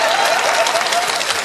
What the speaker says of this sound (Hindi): आप बजा दीजिए ताली एक बार।